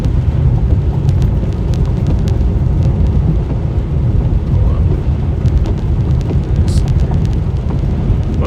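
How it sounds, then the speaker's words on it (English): Midwest thunderstorm with steady heavy rain and a deep, continuous rumble of thunder, loud and close throughout. "this is a pretty storm for sure"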